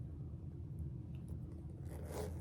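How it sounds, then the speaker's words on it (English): A zipper with a leather-tab pull on a preloved, discontinued Louis Vuitton bag slides smoothly and quietly, with a faint soft scrape rising near the end. "The zipper is like butter. You know, those LV zippers are wonderful."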